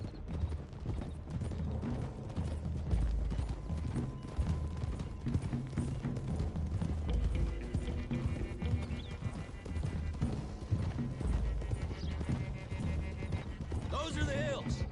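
Horses ride along in Red Dead Redemption 2, with clip-clopping hooves, an occasional whinny and saddle jingle running beneath game music and character voices.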